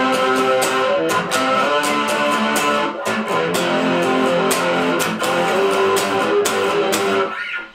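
An electric guitar runs through effects pedals in a dense, sustained wash of chords, loud and constant, with regular sharp accents cutting through about every half second and a fade at the end.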